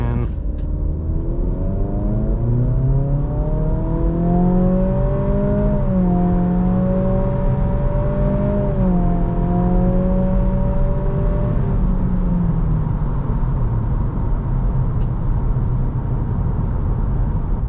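Acura Integra A-Spec with a CVT launching uphill from a brake-torque start with traction control off, a loud steady engine drone whose pitch rises and holds as the car pulls away, heard from inside the cabin.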